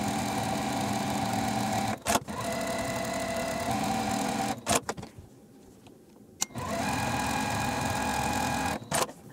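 A sewing machine stitches a Weathervane quilt block, running in steady sustained bursts with brief pauses and a short quiet gap between runs.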